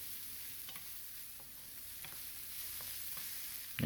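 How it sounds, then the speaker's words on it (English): Onions and garlic sautéing in a pan, a faint, even sizzle with soft periodic stirring taps, ending in a brief louder knock. "Let it saute up a little."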